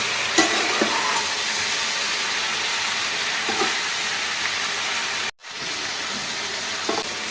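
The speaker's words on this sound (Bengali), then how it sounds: "এবারে আবার আমি এটাকে ভাজবো ভালো করে এপিট ওপিট করে" Raw pumpkin and shrimp fry in a pan, a steady loud sizzle running throughout with occasional stirring scrapes and a brief dip near the end.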